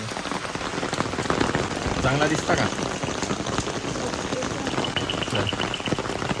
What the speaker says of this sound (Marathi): पडतंय पाऊस इथे